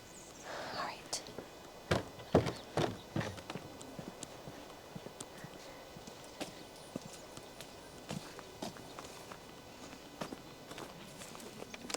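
Horses walk on a farm, their hooves clip-clopping in an irregular close rhythm with louder clusters early on, while people whisper and talk softly over the steps.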